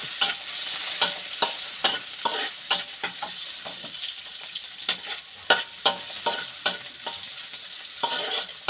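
Shallots and garlic frying in oil until golden, a constant sizzle broken by repeated scraping stirs of a spatula at an uneven rhythm, close and fairly loud, no voices.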